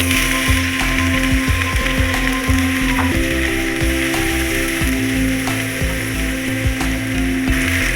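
Four finely chopped medium onions fry in oil, a steady close sizzle and crackle with rhythmic scraping and clicking running through it.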